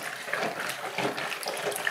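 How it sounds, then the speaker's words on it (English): Water splashes and spills from a clogged bathroom sink during a hand-plunging attempt, a steady close wash of sloshing liquid with no voices. "Oh, spilling water all over the place."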